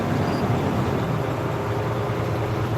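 A truck engine with a repaired turbo runs as a steady, close, low rumble with an even drone, with no sharp rise in pitch or volume.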